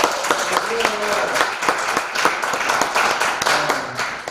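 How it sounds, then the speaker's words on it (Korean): A church congregation applauds at a Christmas service, a dense patter of hand claps sustained for a few seconds, with a voice briefly audible over it. "다시 한번 박수 치겠습니다"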